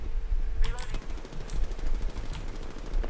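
Gunfire in the video game Apex Legends, with a short burst of automatic shots followed by several sharp single cracks spread over a few seconds, mixed with game sounds and a player's voice.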